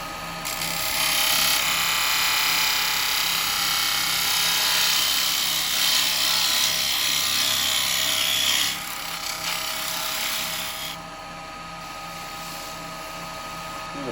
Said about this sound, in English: Just using my spindle gouge for this bit.